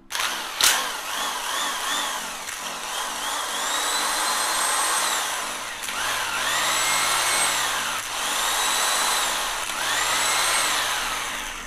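An electric impact wrench for driving bolts, with speed settings and trigger-mounted reversing, runs in repeated whining bursts that rise and settle, close and fairly loud, with no talking.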